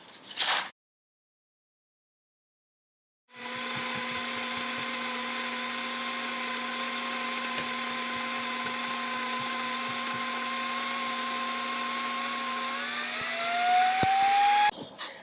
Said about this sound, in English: I'm going to grind those really quickly in my grain mill right here.